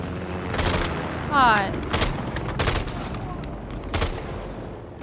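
Gunfire in Call of Duty: Modern Warfare III, several sharp bursts of shots at close range spread over a few seconds, with a player's voice talking between them.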